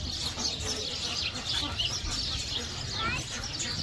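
Small birds chirp and tweet in quick, overlapping bursts against a steady background hum, with faint voices murmuring now and then.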